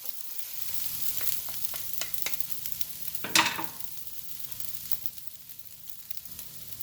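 Paccheri noodles and vegetables are stirred in a hot pan, giving a soft steady sizzle broken by repeated scraping strokes of a utensil and one louder clattering scrape midway, close and without talk.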